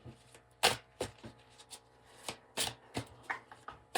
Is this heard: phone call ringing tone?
no